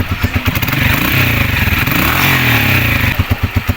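A Motorstar 125 motorcycle fitted with a replacement 155 carburetor idles and revs up close, with steady low engine pulses that swell into a sustained, louder run before settling back to choppy idle firing. No one talks.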